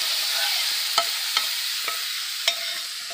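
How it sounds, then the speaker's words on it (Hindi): Spice masala stirred into onions frying in a pan for a Belhra fish curry: a steady close sizzle broken by several sharp scraping clinks of the spoon against the pan. "अब इसमें मसाला डाल देते हैं।"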